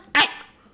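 A person vocally imitates the bark-like cry of the New Caledonian kagu bird: one short, sharp, dog-like yap, loud and close, then fading quickly into quiet.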